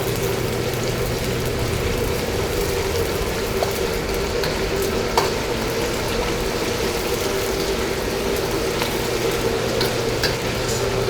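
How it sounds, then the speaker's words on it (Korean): Scallions frying in hot oil as the base for chili oil, a steady, dense sizzle that runs evenly throughout at close range, with a few small pops and stirring clinks rising above it. "이 대파가 약간 갈색 빛깔 날 때까지는 튀겨 주셔야 되거든요"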